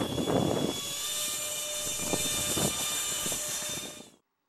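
A scratch-built ducted fan RC park jet whines with a high, steady electric fan tone as it takes off, moderately close and alone before stopping abruptly.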